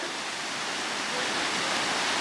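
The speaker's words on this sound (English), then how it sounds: "there's waterfalls feeding into waterfalls from above" Mountain waterfalls cascade into one another beside a steep mountain path, a dense, constant roar of rushing water up close.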